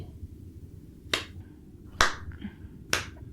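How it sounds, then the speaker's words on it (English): A slow clap: three sharp, isolated claps spaced about a second apart over quiet low background noise. "A single man stands in the center and starts with a slow clap"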